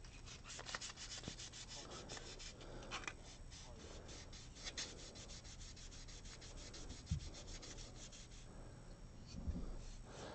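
Steady rubbing and sanding on a scale model rod to smooth out hard-edged scratches, a continuous close scratchy texture with faint intermittent thumps and low shop hum, no talk.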